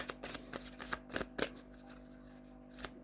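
A deck of tarot cards being shuffled by hand, close and quiet, with a series of crisp riffling snaps and soft shuffling strokes.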